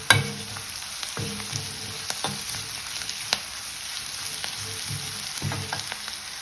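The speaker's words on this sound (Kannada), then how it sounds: "ಸ್ವಲ್ಪ ಬೆಳ್ಳುಳ್ಳಿ, ಕರಿಬೇವು ಹಾಕೊಳ್ಳೋಣ." Garlic and curry leaves frying in a hot pan for a squid sukka: steady bright sizzle throughout, with a few stirring clicks and scrapes near the start and end.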